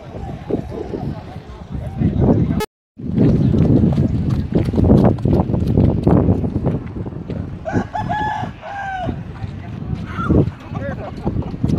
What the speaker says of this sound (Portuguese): certo. Cavalos.